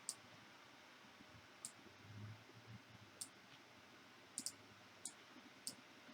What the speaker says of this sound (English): I don't know if you can hear the mouse clicking.